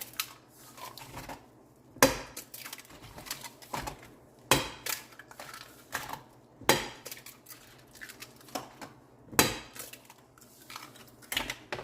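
Five eggs cracked open one after another in a home kitchen, giving sharp, distinct cracks at a brisk, roughly even pace with no talk between them.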